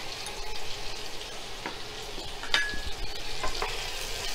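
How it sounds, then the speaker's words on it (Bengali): Potato pieces coated in turmeric paste and salt sizzle in hot oil for deep frying, with a steady crackle and a few scraping stirs of a spoon across the pan. "এবার আমি আলুগুলো ডিপ ফ্রাই করে নেব"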